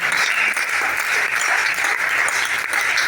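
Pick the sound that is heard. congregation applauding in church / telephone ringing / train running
congregation applauding in church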